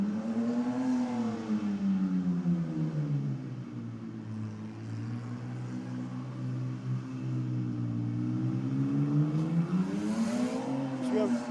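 A car engine revs hard and steadily through a burnout contest, pitch rising and falling in sustained waves, loud and close, with a commentator talking over it.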